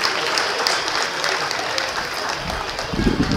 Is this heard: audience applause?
yes